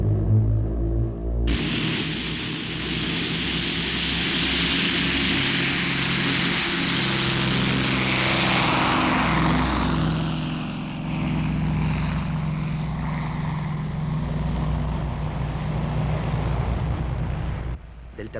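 A propeller airplane engine drones loudly and steadily at close range before takeoff, rising in power partway through, with a voice speaking under the roar.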